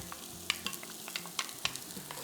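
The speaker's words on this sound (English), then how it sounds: "I have a good-sized chopped white onion. So go ahead and get that into the pan." A chopped white onion frying in vegetable oil in a pan, a continuous gentle sizzle with a spoon stirring and clicking against the pan several times, close and fairly quiet.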